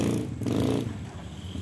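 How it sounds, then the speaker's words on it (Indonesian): Motorcycle passing on a village road near a toll road construction site, a brief close engine roar and rev that fades after under a second. "maka banyak motor-motor pada lewat, suaranya"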